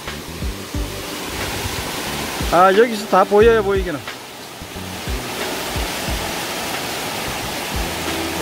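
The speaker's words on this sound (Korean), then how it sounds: "저 위에 폭포가 있네요" Maewoldae waterfall in a Cheorwon valley cascades down rock steps, giving a steady, distant rushing roar throughout, while someone speaks briefly over it.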